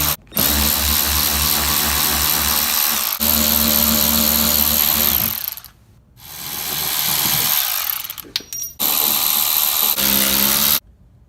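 A power tool with a 5.5mm socket whirs loudly, removing bolts on a Ford 6.2 during spark plug work, in several sustained bursts with brief pauses between runs.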